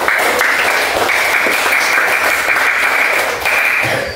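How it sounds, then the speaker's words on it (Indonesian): Students in a classroom applaud a classmate during a maths lesson, a dense, even round of clapping that holds at a steady loud level throughout. "Tepuk tangan untuk Anda."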